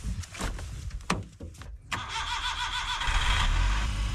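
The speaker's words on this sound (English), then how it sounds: "All right, let's see if the car starts. When it gets really cold, my K-Truck freezes up and won't start." A K-Truck engine cranks in freezing cold with several stuttering starter bursts, a short pause, then catches and settles into a steady, close mid-pitched idle.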